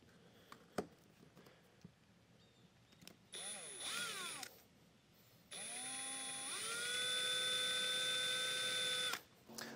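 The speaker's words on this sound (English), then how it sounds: "I'm going to drill 2 access holes in the side of the flange here" A whining power drill bores holes in a pipe flange, spinning up and running steadily for several seconds after a shorter earlier burst, with faint clicks and handling noise around it.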